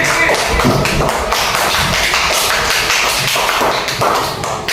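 A classroom of students applauds their classmates in dense, continuous clapping that stays loud and steady throughout.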